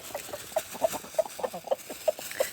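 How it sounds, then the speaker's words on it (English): A rooster gives a series of short, rapid clucks calling hens to food, in a quick uneven rhythm, close by, with faint rustling around it. "Now the clucking noise he's making, he's telling them that there's food."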